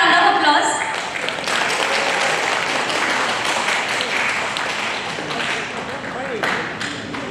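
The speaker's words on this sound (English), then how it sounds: "Please have a round of applause" An audience at an architecture builders' gathering in Dimapur applauds an awardee with a sustained wash of clapping, steady and fairly loud, fading slightly toward the end, while a voice speaks over it.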